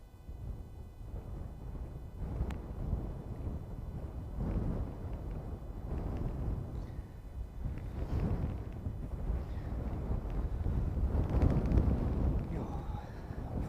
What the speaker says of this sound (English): Unfortunately, that wind's picked up again